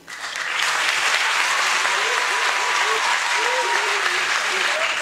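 Sustained audience applause at a school debate between two lycée teams, steady dense clapping with a faint voice speaking over it throughout.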